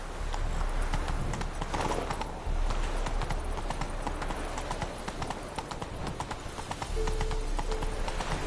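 Roach the horse trotting in a video game, a brisk, steady clip-clop of hooves close by, with faint background music and a brief voice.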